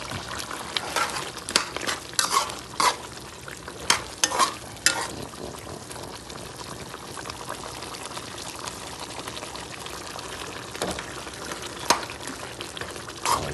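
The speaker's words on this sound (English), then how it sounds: "Just stir that in that order." Oxtail being stirred in a frying pot for a Jamaican dish, with close scraping and a steady sizzle throughout, louder stirs clustered early on, and no talking.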